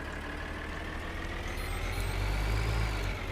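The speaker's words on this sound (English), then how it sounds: "So now I'll get my tractor" Tractor in Farming Simulator 2013 with its engine droning steadily while driving, a low rumbling hum that swells slightly toward the end, heard alone without talk.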